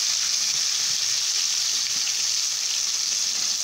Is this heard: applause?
no